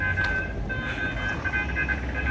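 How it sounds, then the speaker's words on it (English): Children's amusement ride train at a village Christmas celebration rumbling along with a steady mechanical whine, fairly close, amid faint background crowd noise. "I guess this is train."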